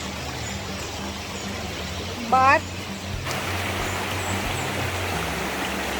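River water after heavy flow rushes continuously at moderate loudness, a steady broadband wash with a low rumble beneath, while a person briefly speaks and a short whistle-like chirp cuts through.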